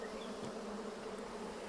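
Honeybees in an open beehive with honeycomb frames hum in a continuous, even buzz. The sound is close and fairly quiet, with no talking.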